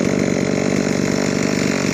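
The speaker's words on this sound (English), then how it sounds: "you know the chainsaw's sharp if it's creating chunks out of it rather than just plain sawdust" Chainsaw with a sharp chain cutting through wood at a homestead, running loud and steady with a continuous buzzing engine drone throughout, no talking.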